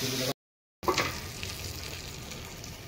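Magur catfish frying in hot oil, a steady close sizzle and crackle that drops out briefly near the start and then returns at full strength.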